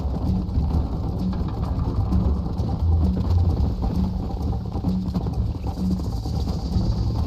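A horse gallops in Red Dead Redemption, rhythmic hoofbeats thudding steadily and close over a dense low rumble of movement, continuing throughout without speech.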